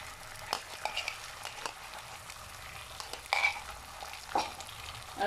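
Eggs frying in a hot pan give a soft, steady sizzle with a few light scrapes and clicks throughout, heard close and alone.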